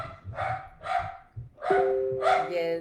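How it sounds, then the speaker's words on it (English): A dog barks about four times in a steady rhythm, close and clear, while a person speaks briefly and a tone sounds near the end. "my dog may bark"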